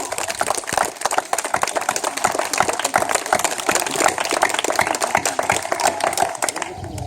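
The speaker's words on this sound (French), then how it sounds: "On peut les applaudir extrêmement fort." A hypnosis show audience in Lurcy-Lévis applauds loudly and steadily, dense clapping throughout with no pauses.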